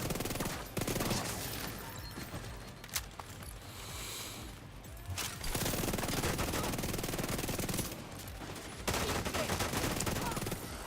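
Rapid SMG bursts rattle in The Division 2, long sustained volleys of automatic fire broken by a short lull and a sharp shot, with faint voices underneath.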